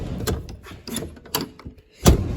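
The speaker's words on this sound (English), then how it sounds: "These doors are tricky." An old classic truck door worked open, a few sharp mechanical clunks and latch rattles spaced across a couple of seconds, ending in a louder thud, close by and without talk.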